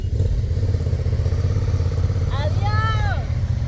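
Motorcycles from a riding club pass by on a Colombian road near Neiva, a loud steady engine rumble with clattering, while a person talks over it near the end.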